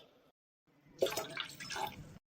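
Water pours into a cooking pot for rice in a home kitchen, a single continuous splashing rush lasting about a second, after faint background noise and a brief silence.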